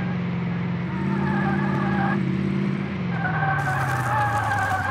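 A car in Car Mechanic Simulator 2018 skids under hard braking on a test track, a sustained tyre screech over a steady engine drone that shifts pitch midway, with no talk.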